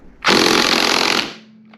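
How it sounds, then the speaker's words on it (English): A single loud, close burst of about one second from a power impact tool tightening the final nut on an Audi TT MK1 strut top mount, cutting off into a faint fading whine. "Now tighten the final nut."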